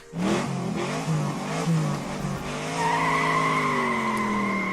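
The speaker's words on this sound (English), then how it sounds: "A bright yellow car, badly out of place on the shabby country road, roars around the bend and disappears." A bright yellow car on a shabby country road roars around a bend in a visual novel game, with its engine loudly revving up and tires squealing as it passes close by.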